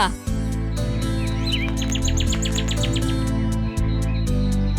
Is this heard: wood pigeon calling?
yes